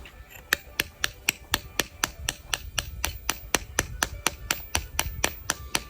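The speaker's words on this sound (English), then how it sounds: "So we have to do it with a hammer and a chisel." Hammer driving a chisel into solid stone for sculpture, a steady run of about twenty-five sharp, evenly spaced metallic strikes, close and crisp over a faint background.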